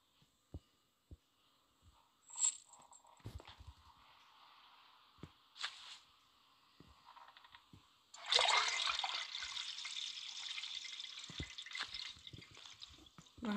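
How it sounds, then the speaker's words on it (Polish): Toilet flush in a bathroom: a loud gushing rush of water begins suddenly and roars steadily to the end, preceded by scattered drips, clicks and handling noises. "Aha, spuściłem wodę."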